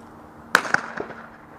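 A single shotgun blast fired at a thrown clay target during skeet-style shooting practice, a sharp loud crack followed by a few quick echoes that fade out over about a second.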